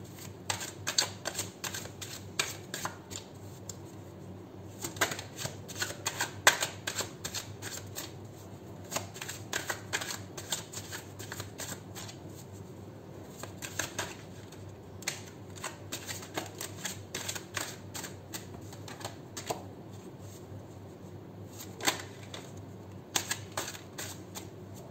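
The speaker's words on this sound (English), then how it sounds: "we're doing live shuffling, seven shuffles" A deck of tarot cards being shuffled by hand seven times, giving soft, close riffling and slapping bursts in irregular clusters, quiet and without speech.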